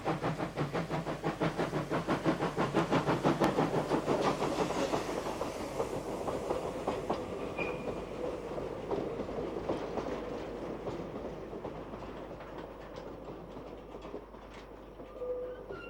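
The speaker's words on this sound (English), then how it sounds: "D 3323 pulls away from 4th reverse" South African steam locomotive D 3323 pulls away from the fourth reverse on a zigzag mountain line, its train wagons rumbling loud and steady with rhythmic clatter that slowly eases and fades over the sixteen seconds.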